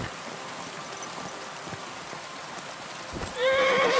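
Rain hisses steadily, then a video-game horse in Kingdom Come: Deliverance II lets out a loud, shrill whinny near the end.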